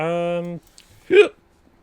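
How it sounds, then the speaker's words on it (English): A single sharp human hiccup, close and abrupt, follows a short sustained voiced tone and a brief quiet gap. "as I have more hiccups"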